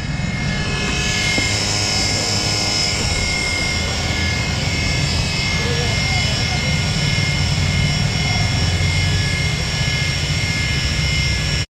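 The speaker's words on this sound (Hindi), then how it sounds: "बाइक का जो साउंड है ना भाई रेडिएटर से ऐसे आता है" A Yamaha motorcycle's radiator gives off a loud, steady whirring drone that holds unbroken for about twelve seconds, with a dense rushing hiss over a low rumble.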